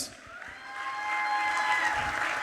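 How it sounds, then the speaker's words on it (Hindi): Applause rises from the audience at a women's singing competition, soft and steady, with a sustained musical tone running alongside it for a couple of seconds. "Can we have a big round of applause?"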